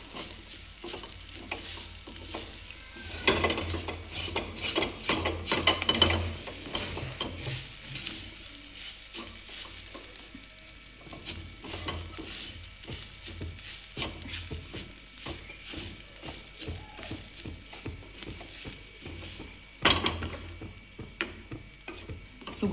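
Grated coconut roasts on low heat in a pan for a dry Marathi coconut chutney, stirred steadily with a utensil that scrapes and rustles over a soft, continuous sizzle, close and fairly quiet, with no talk.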